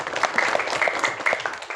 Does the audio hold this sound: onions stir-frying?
no